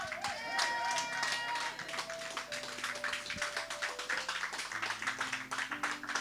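Church congregation clapping rhythmically while acclaiming God, dense steady applause with voices and music mixed underneath.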